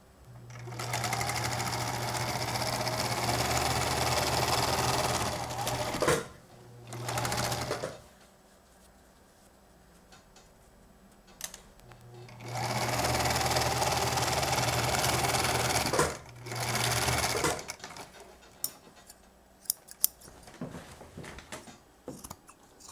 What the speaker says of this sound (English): take it over to your sewing machine, and just stitch along the bottom